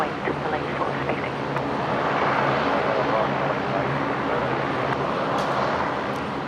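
A Fokker 70 airliner departing Brisbane airport gives a steady, broad engine roar that holds for several seconds at moderate distance, heard outdoors without talk.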